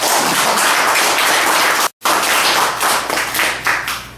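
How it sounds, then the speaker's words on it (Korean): A hall audience breaks into sustained, dense clapping at a Korean university lecture event, loud and continuous apart from a brief cut, then tapering slightly. "힘찬 감사의 박수를 다 함께 보내도록 합시다."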